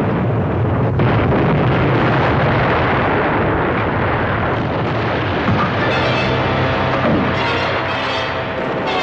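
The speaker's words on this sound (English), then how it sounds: "that explosion uncovered something" A loud, continuous roar of an explosion from a TV drama set in the Alps of northern Italy or Austria, a dense, rumbling blast that fills the whole span with turbulent, wind-like noise and no voices.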